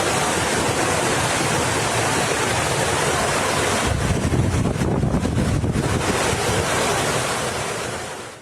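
Typhoon wind roars continuously with a dense, rushing texture, swelling into a heavier gust midway before easing off toward the end; sustained winds around 185 km/h with gusts to 230 km/h in the Philippines.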